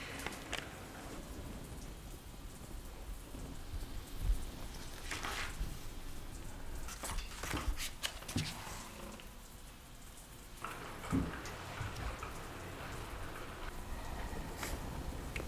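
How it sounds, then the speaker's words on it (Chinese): Rain falls as a soft, steady patter with scattered louder drops and bursts of splashing, fairly quiet and with no voices. "下雨了。"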